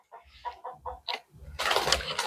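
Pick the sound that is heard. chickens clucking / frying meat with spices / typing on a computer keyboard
chickens clucking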